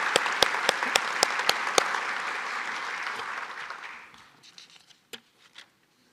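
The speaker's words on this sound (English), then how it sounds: "So how about a round of applause to show our appreciation?" An audience at a veterans recognition ceremony claps together. The applause is loud and steady, with a few sharp claps standing out early, then it fades over a few seconds to scattered last claps.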